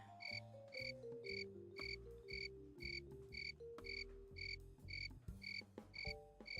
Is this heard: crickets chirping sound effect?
yes